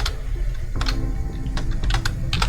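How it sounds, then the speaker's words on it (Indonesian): Typing on a thin, new computer keyboard, a run of quick, uneven key clicks and clatters close by over a steady low room hum, with no voices. "Tipis keyboard baru susah ngetik biasa."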